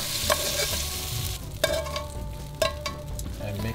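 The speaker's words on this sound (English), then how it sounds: "Mix it up, and then throw the beef in." Jjapaguri noodles and beef are stirred in a hot pan, producing a sizzling fry with a few sharp utensil scrapes and taps against the pan, close up and with no voices.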